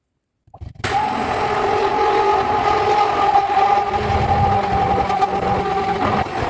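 A blender starts abruptly and runs loud and steady, a grinding motor roar churning thick roasted peanuts for homemade Nutella for several seconds.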